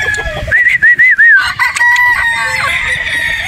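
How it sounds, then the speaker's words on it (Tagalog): Boston Roundhead broodstag rooster crowing loudly and close by in one long call, with a few clucks afterward over farmyard background noise. "So ito yung panglima natin na Boston Roundheads."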